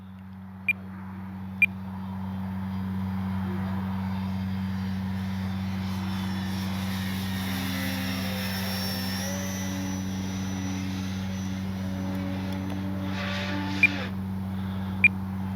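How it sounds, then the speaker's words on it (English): An E-flite Timber SE RC airplane making a low pass down the runway at an RC airfield, its electric motor whine rising and falling faintly over a steady low hum, with a few sharp beeps near the start and end. "let's get ourselves a low pass. Low pass down the runway"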